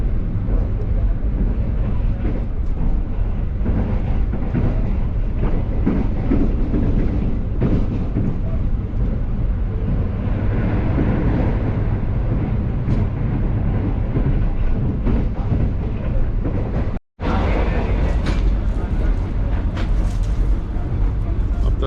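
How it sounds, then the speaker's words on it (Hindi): Green Line Express passenger train running at speed through a station, a loud, steady low rumble with wind noise that continues throughout, briefly cutting out once near the end. "अपनी परमिसिबल स्पीड के अंदर ट्रेन दौड़ रही है इस वक्त"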